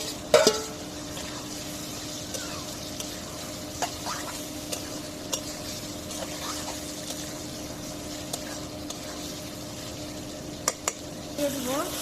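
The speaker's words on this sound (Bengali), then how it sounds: "এখন আলু দিয়ে কষাইব।" Potatoes being stir-fried in a pan give a steady low sizzle, with sparse light scrapes and taps of a spatula stirring against the pan.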